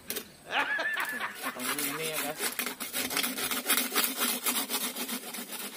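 Saw rasping through a tree branch being cut for bonsai material outdoors, a steady rhythmic scraping that runs throughout at close range, under chattering voices and laughter.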